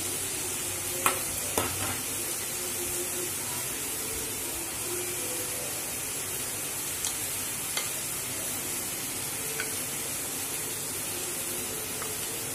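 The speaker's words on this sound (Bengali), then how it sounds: "এবার আমরা ডিমটাকে মিশিয়ে দেব।" Eggs stirred and fried in biryani masala in a pan, a constant close hiss of frying broken by occasional light clinks of a spoon against the pan.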